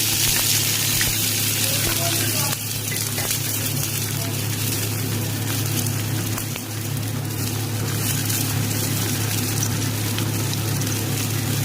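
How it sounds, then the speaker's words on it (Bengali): Chopped onions frying in hot oil in a pan for a Bengali-style mutton curry, a continuous rain-like crackling sizzle with a low steady hum underneath, no one speaking. "পেঁয়াজটাকে দিয়ে আমি লাল লাল করে ভেজে নেব।"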